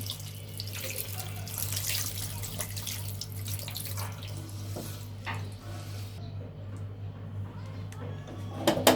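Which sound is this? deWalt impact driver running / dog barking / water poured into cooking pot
water poured into cooking pot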